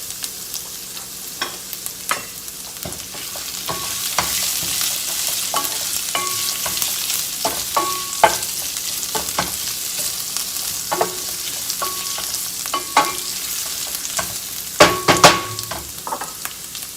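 Lemon sautéing over medium heat in a pan, a steady close sizzle broken by repeated sharp clinks and scrapes of stirring, with no talking.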